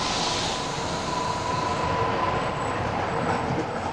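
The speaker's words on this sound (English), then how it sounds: "This is the Metro, Newcastle's gleaming new local railway system" Newcastle's new Metro light railway train runs past with a steady, close rumble of wheels on rail and a faint thin squeal riding on top.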